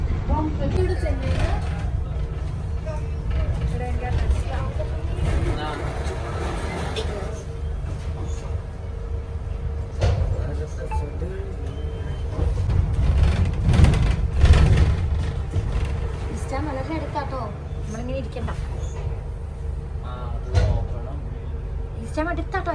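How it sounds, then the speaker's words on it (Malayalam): A double-decker bus in East London rumbles along with a continuous low engine drone, swelling briefly midway, while people talk on board. "നമ്മളെല്ലാവരും വീണ്ടും ഡബിൾ ഡക്കർ ബസ്സിൽ കയറി"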